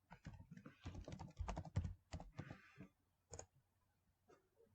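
Rapid keystrokes on a computer keyboard while working in a Word document, a dense run of close clicks for about three seconds, then a few scattered taps alone.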